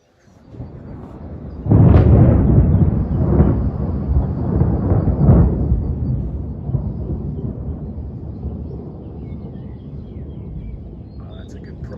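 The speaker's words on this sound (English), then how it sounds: "Thunderstorm rolling across the valley now." Thunder rolling across a valley during an approaching thunderstorm, a sudden loud crack that breaks into a long deep rumble, fading slowly over about ten seconds.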